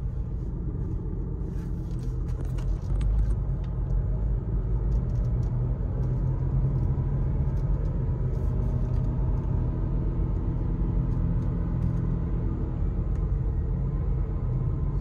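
A VW Virtus Stage 1 and a Chevrolet Cruze roll-race from inside a car, a steady low engine and road rumble droning throughout without clear revving.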